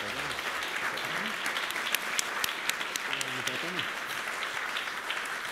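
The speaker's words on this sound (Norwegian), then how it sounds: "En applaus kan de få med en gang," Steady, dense applause from a seated audience fills the hall after a seminar debate on hidden wealth and inequality. The many hands clap evenly throughout, with a few voices murmuring underneath.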